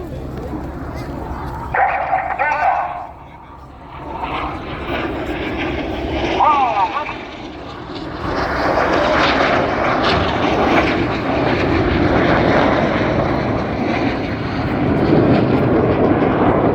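Red Arrows jets performing an opposition barrel roll at an air show at RAF Fairford, a loud sustained jet roar swelling and washing across the sky while a commentator talks over it and a dog barks briefly.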